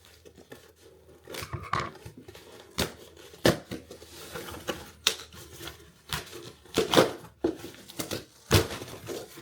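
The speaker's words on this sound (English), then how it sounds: "my lovely Fiskar scissors to open up this box" Fiskars scissors cutting open a cardboard box holding a Kindle, a close series of irregular snips, tearing and crinkling rasps that are sharp and fairly quiet, with no talking.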